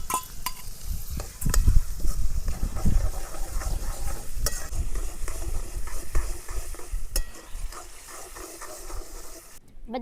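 Asafoetida, onion, green chillies, crushed garlic and tomato fry in a pan for a Kathiyawadi stuffed eggplant curry, with loud scraping stirs and a continuous close sizzle.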